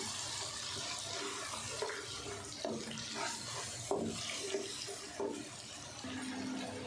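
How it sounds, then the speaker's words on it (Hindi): Water is poured into a masala frying in a pan for aloo shimla mirch, with splashy running water, gentle sizzling and intermittent stirring clinks throughout, fairly quiet and with no talk. "मसाला को अच्छे से भूनेंगे और साथ ही थोड़ा सा पानी भी ऐड करेंगे"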